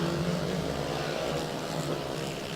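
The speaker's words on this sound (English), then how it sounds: "Richard Rice easily makes it past with his more powerful bike" Racing motorcycles in a veterans' race at Llandow circuit pass along the back straight, a steady droning engine roar, moderately distant and constant throughout, with no voices.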